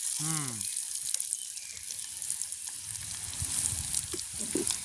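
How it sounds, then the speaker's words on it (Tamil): Banana stem curry with curry leaves sautéing in a pan, a steady soft sizzle with occasional stirring clicks; a brief high tonal sweep sounds near the start. "உங்களுக்கு நல்ல வடிவா எல்லாம் வதங்கி வந்துட்டு"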